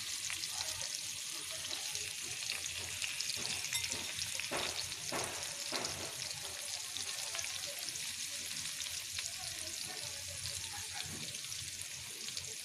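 Chopped garlic and onion, about one to one and a half cups, frying in oil in a pan, giving a steady close sizzle that continues throughout with a few brief stirring bursts.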